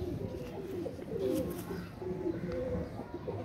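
Pigeons of a golden breeding pair coo in soft, low repeated phrases close by, with faint background noise.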